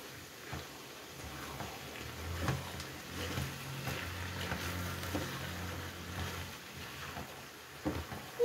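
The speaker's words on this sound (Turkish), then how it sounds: "İyice kavuralım." Diced potatoes with green and red peppers fry in a pan, a soft continuous sizzle with occasional stirring clatter, fairly quiet and close.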